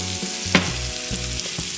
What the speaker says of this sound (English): I just kind of like it when the onion cook in there a little bit.